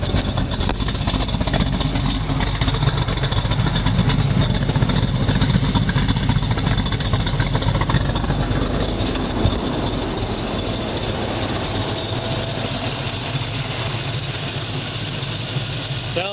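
A 1970 Chevrolet Camaro Z28 tribute with headers, an Edelbrock manifold and a solid lifter performance cam idles loud and close with a steady low rumble and uneven lope, while someone talks over it.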